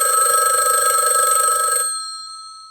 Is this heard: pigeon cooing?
no